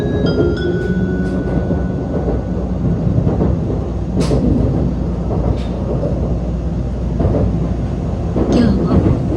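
Steady low rumble and rattle inside a Tokaido Shinkansen Nozomi bullet train running between Tokyo and Shin-Osaka, with brief clicks and bumps over the track and a faint chime-like tone near the start, no voices.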